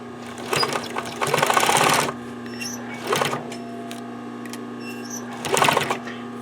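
Sewing machine backstitching a seam on scrap fabric, running in three rapid mechanical bursts separated by pauses, loud and close, with a faint low hum between bursts.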